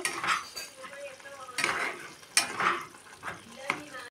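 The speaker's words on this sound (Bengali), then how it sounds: "এটাকে অল্প হিলিয়ে দিই" A utensil stirs food in a cooking pot, giving several scraping, clinking strokes against the metal with faint bubbling between them, close and clear.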